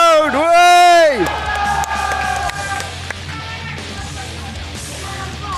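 A live esports crowd at a Guilty Gear Strive tournament cheers and whoops loudly in a short burst, then the noise settles into a murmuring hall ambience with scattered voices.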